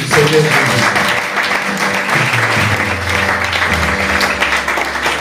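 A church congregation applauds the Lord in a loud, sustained burst of clapping that fills the hall, with faint voices mixed in.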